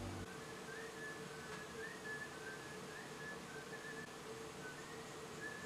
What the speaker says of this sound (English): Y'all hear that whistling?